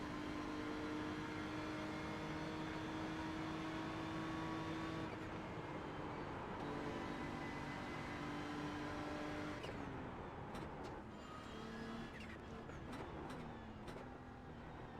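A BMW race car's engine droning steadily at Suzuka in iRacing, pulling at a sustained high pitch while chasing a Lamborghini. The pitch drops at a gear change midway, and faint clicks and bumps come in near the end.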